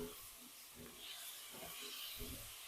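Onions sautéing in a pan for a pork goulash bake, a soft continuous sizzle and hiss, faint and steady, with a few light stirring scrapes and no talk.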